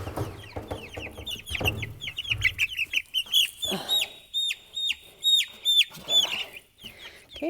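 Young chickens, six and three weeks old, cluck and peep as they are picked up and moved to a chicken house, with handling rustle early on, then a run of sharp, repeated chirping calls close by.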